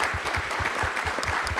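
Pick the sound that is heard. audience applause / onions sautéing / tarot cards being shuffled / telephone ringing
audience applause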